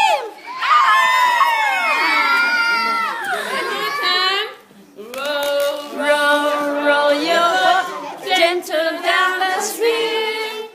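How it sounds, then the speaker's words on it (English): A playgroup of young children shout and scream loudly together during a sung rowing rhyme. The high, sustained cries break off briefly midway and then resume as a noisy chorus. "if you see a crocodile, don't forget to scream"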